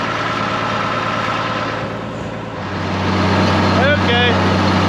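An 856 tractor hitched to an ear corn picker idles with a steady, loud low rumble that deepens and strengthens partway through, while a person talks nearby.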